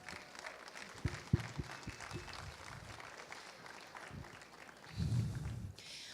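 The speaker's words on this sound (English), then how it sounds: "Folks, these guys deserve the round of applause here today." Faint audience applause greets classroom teachers at an education keynote, a quiet spread of clapping broken by a few sharp thumps and a brief louder swell near the end.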